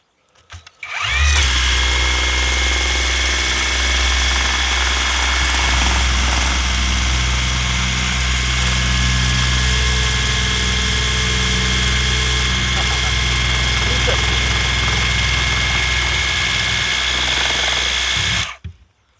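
A Worx Hydroshot cordless pressure washer sprays through a turbo adapter, a loud, steady motorized whine and hiss that starts abruptly, holds unbroken for about seventeen seconds, then cuts off.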